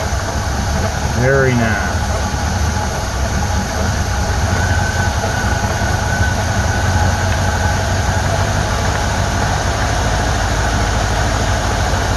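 Chinese-built Ford 2100 tractor engine with a new carburetor idles low and steady, a loud continuous rumble close by, with a brief voice speaking over it.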